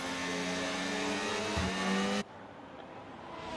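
An F1 race car engine in the F1 25 racing game at the Australian Grand Prix, a loud, high-revving whine held steady while overtaking with DRS, then cutting off abruptly as the car pulls past, leaving quieter engine noise behind.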